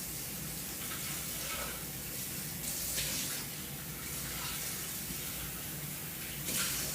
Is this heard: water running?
yes